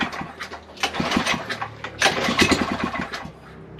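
A 1964 Rupp Continental minibike engine sputters and catches, firing in a rough, uneven burst close by, revving unsteadily for a few seconds before settling.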